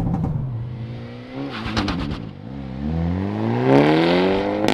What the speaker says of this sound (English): so Kona N launch